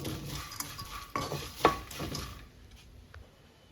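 Dried prawn heads are dry-roasted in a pan without oil, with a spoon stirring them: scraping and rattling strokes plus a few sharp metallic clinks, close up, fading after a couple of seconds.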